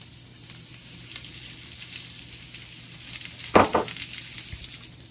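Onions and baby spinach sizzle steadily in a frying pan for an omelette, a bright continuous hiss with a brief louder burst of stirring partway through.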